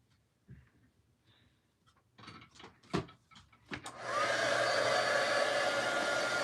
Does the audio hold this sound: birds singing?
no